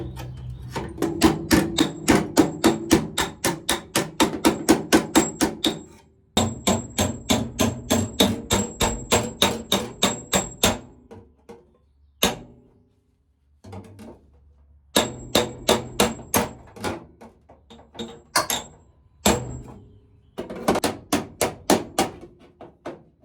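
Rapid, ringing hammer blows pounding sheet metal flush with the floor of a Jeep Cherokee build, close and loud in long even runs of strikes broken by short pauses and a few isolated hits.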